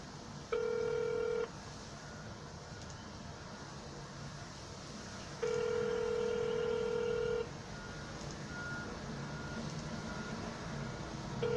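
DTMF keypad tones from a telephone being dialed for a real-estate cold call about an expired listing, two bursts of steady beeping tones, with a faint hum underneath.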